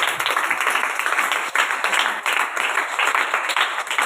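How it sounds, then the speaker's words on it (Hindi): A church congregation gives loud, enthusiastic applause for its pastors and leaders, a dense, bright clatter of many hands, near and sustained with slight surges, unaccompanied by speech. "हमारे आत्मिक पिता, माता और पास्टर प्रीति, ब्रदर अनुभव और सिस्टर श्रुति के लिए जोरदार ताली बजाओ।"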